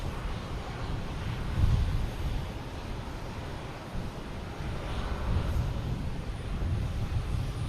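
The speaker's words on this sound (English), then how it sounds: "we have a American coming in from LAX," An American Airlines A321 airliner arriving from LAX at Boston Logan, heard as a steady, broad, rumbling jet roar at a distance that swells slightly in places and holds throughout.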